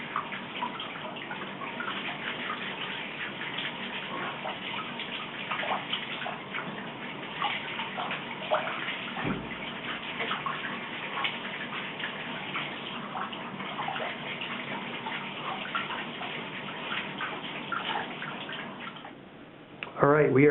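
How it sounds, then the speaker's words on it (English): Water runs steadily from a tap at close range while milled aluminum is wet sanded under it, a continuous splashing hiss that barely changes for the whole stretch. "when I was wet sanding under the faucet"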